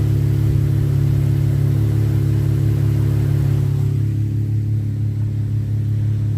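A car fitted with Magnaflow Magnapack exhausts rumbles steadily up close, a deep, loud, even engine drone with no talking; it eases slightly toward the end rather than climbing in obvious revs.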